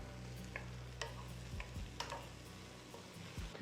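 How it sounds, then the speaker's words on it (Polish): Garlic frying with glassy softened onion in a pan, a steady soft sizzle broken by several sharp clinks and scrapes of a utensil stirring against the pan. "Cebula się zeszkliła, więc dodajemy czosnek. Podsmażamy tak mniej więcej pół minutki."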